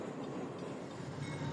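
A Conrail freight train heading east on the Cleveland line toward Pittsburgh, near the lakefront, rumbles past as a faint, distant, steady roll of wheels and cars.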